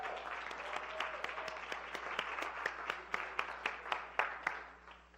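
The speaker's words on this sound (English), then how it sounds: "I would like everybody to give Dr. Mike Margolis a round of applause for appreciation of the wonderful job he did for this weekend's program." A conference audience applauding steadily, a room full of clapping hands that fades out toward the end.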